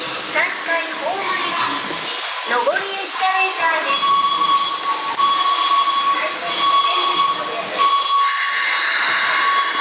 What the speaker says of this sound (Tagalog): nasakyan agad tayo train